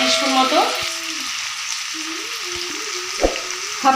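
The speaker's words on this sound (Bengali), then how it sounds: "ভালোভাবে আলুটা ফ্রাই করে নেব" Chopped potatoes with salt fry in a pan, giving a steady close sizzle with a few stirring scrapes and knocks against the pan. No one speaks.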